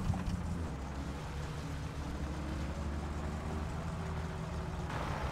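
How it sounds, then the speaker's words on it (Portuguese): Steady car engine drone in the driving game My Summer Car, a constant low rumble held throughout with no gaps, close and moderately loud, with no talk over it. "Nosso carro depois de quente fica forte, hein?"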